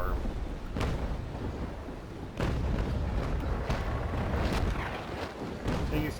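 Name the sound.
ship cannons firing in the video game Naval Action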